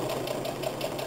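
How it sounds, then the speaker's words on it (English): Sewing machine reverse stitching through keychain fabric, a brief steady motor hum with a quick pulsing needle rhythm, close and alone without talking. "You want to reverse stitch it a couple times."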